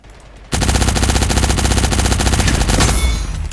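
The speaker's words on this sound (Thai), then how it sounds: "ปืนเกมนี้ค่อนข้างสดนะครับ ยิงกันตรงไหนวะ" Rapid automatic gunfire from a video game erupts suddenly after a brief quiet moment and continues as one loud, dense, sustained burst before easing slightly at the end.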